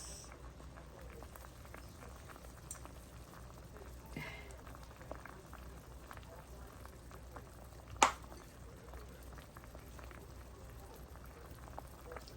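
Vegetable and fish soup bubbles in a pot at a low, steady simmer, a soft continuous gurgle with one sharp clatter near the end.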